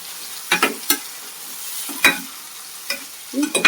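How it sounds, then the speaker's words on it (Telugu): Tomatoes added to a frying eggplant and dried shrimp curry, a faint background sizzle with a few sharp stirring knocks and scrapes against the pan, close and sparse. "టమాటాలు కూడా వేసేస్తున్నాము."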